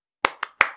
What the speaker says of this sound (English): I clap my hands in raucous applause